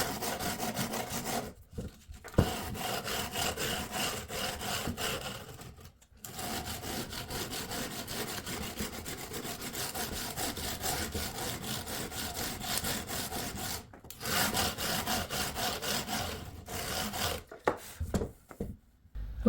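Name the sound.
sanding guitar frets with 220 grit sandpaper on wood block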